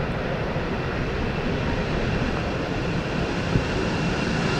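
A KLM Cityhopper Embraer jet landing at Amsterdam Schiphol runway 18R in rainy, windy weather without thrust reversers, heard as a steady, loud, broadband engine roar that holds evenly throughout.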